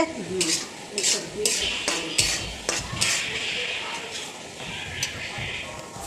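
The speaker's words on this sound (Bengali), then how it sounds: "চিকেনটা আগে রান্না করে নিচ্ছে" Chicken cooks in a pot for a homemade biryani, with metal spoon scrapes, clinking and a soft sizzle under ongoing conversation.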